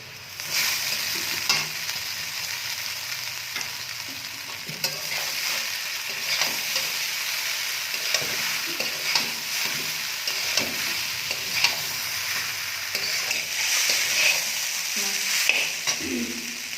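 Boiled chowmein stir-frying with vegetables in a hot pan, a continuous sizzle broken by frequent spatula scrapes and tosses over about seventeen seconds, without talk.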